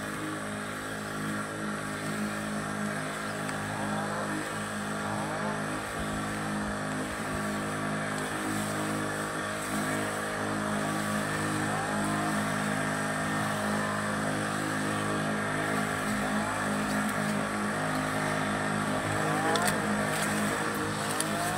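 A 16–20 litre spray pump applying Glysaan herbicide along a field bund, heard as a steady, continuous motorised drone with a constant harmonic hum and no breaks, moderately loud throughout.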